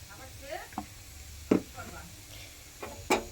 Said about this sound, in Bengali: আমি একসাথেই দুটো তিনটে করে পরোটা ভাজছি